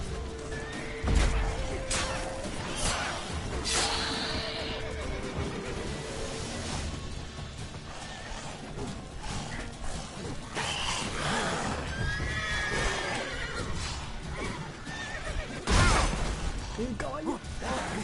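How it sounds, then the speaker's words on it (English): Horse neighing in The Witcher 3 game, several loud whinnies with hoof clip-clop and crashes, mixed with game sounds and a person talking over them. "¡Un caballo!"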